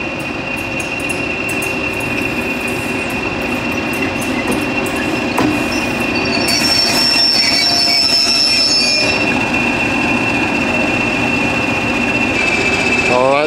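Freight train wheels squeal in a long, steady high-pitched screech as the train slows for a red signal, with a low rumbling background throughout.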